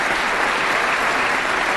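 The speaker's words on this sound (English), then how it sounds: "Please join me in another round of applause as His Holiness the Dalai Lama." Audience applause at a floor gathering, a dense, sustained clapping from a large crowd that stays loud and even throughout.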